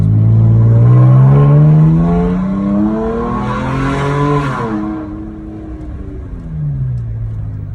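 A loud car engine fitted with a Mopar air intake revs and accelerates close by, pitch climbing steadily, then eases off and rises again briefly.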